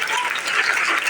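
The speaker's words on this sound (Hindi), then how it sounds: "अपने लिए जोरदार तालियां बजाइए।" A church congregation applauds at a sermon gathering, a dense continuous wash of many hands clapping together, fairly loud and sustained throughout.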